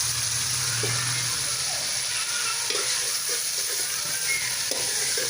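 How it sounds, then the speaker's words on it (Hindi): Whole spices including cumin, black pepper, cloves and black cardamom roasting in hot oil, giving a steady bright sizzle and hiss throughout, with a few soft stirring scrapes and clinks over it. "मसालों को हमने रोस्ट करना है"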